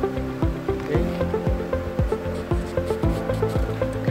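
Honey bees buzzing close by, kept among coconut palms, a steady droning hum with overlapping wingbeat tones and recurring low pulses, continuous for several seconds with no talking.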